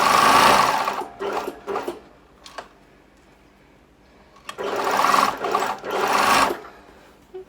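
A sewing machine stitches fabric in quick rattling bursts, a long run at the start, shorter spurts after, then another sustained stretch of close, fairly loud stitching with pauses between.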